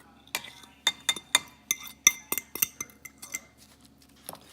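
Metal utensil clinks and scrapes against a bowl while seasonings are mixed into a salmon croquette mixture, a quick irregular series of sharp taps, close and fairly quiet.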